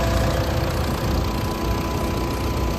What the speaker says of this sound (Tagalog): ganda ng tunog na makina